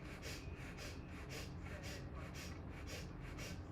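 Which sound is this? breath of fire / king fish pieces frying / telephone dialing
breath of fire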